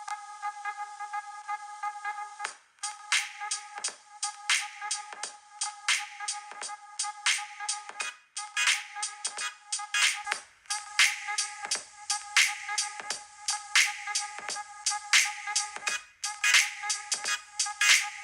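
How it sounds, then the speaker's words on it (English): An iPhone SE 2020 speaker plays a repeating electronic melody, first bare and then fitted with an Apple Smart Battery Case, the tune pulsing in short rhythmic bursts at moderate, fairly thin volume. "Here is a quick before and after video showing how the phone sounds without the case"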